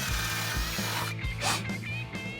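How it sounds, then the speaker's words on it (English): A power drill with a 19/64 bit whines steadily with repeated bursts as it bites through a car body's metal, close and loud, with a low motor hum throughout. "carefully drill out each hole location with a 19/64 drill bit"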